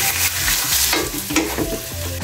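Pork frying in a pan with chili for Bicol express, a loud, close, continuous sizzle with occasional scraping stirs over it.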